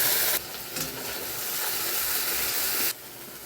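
Onions and spices sizzle and hiss in hot mustard oil in a wok, a steady close frying hiss that swells briefly and then drops off near the end, with no talking.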